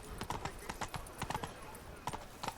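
Roach, the horse in The Witcher 3: Blood and Wine, clip-clops along in a steady walking rhythm, hooves close and clear, with a faint voice murmuring in the background.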